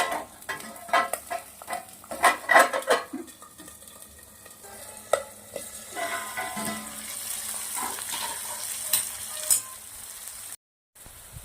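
Green peas frying in a pan with oil for a green garlic matar paneer, crackling and spattering loudly at first, with rapid bursts of popping that ease into a steadier sizzle before cutting out briefly near the end.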